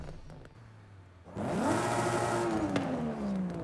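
A race car fitted with a full race exhaust in Forza Horizon 5 idles quietly, then revs hard into a loud, rising engine note that climbs, holds and slowly falls, with no talking.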